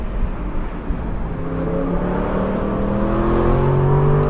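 Aston Martin V8 Vantage S Roadster climbing a canyon road, its V8 roaring steadily louder as it accelerates, with rising engine harmonics and no talking.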